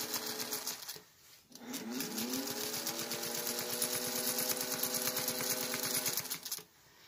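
A sewing machine runs steadily while stitching in the ditch along the edge of a placemat, a close, even mechanical whir that stops briefly near the start and cuts off just before the end.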